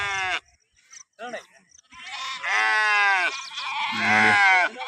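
Sheep and lambs bleat repeatedly at a sheep and lamb market, loud and close, with overlapping wavering cries and a short pause between bursts.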